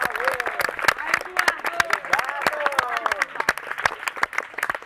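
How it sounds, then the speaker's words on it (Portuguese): Loud applause with many hands clapping in quick, dense bursts, mixed with cheering voices throughout. "Então, palmas pro Maia"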